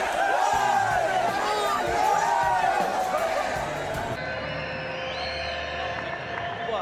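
Football stadium crowd roaring and cheering after a chipped goal over the goalkeeper, a loud, dense swell of voices that holds steady and eases slightly toward the end, with commentary over it.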